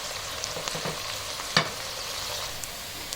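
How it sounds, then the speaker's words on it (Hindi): Onions sizzling and crackling steadily in a hot pan, with a brief louder pop or stir partway through, no talking. "प्याज अभी फ्राई हो रहा है"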